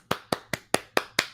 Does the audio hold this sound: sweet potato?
no